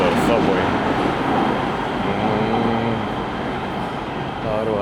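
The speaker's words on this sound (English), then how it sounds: "we are at the 7th Street Metro Station" Subway train rumbling at the 7th Street Metro Station in downtown Los Angeles, a steady loud underground roar with squealing tones, heard alone throughout.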